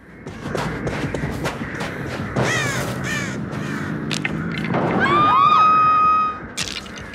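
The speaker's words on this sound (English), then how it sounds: "Area of crows." Crows cawing in Dead by Daylight, several harsh caws and a burst of flapping over steady game ambience, followed by a rising tonal sweep near the end.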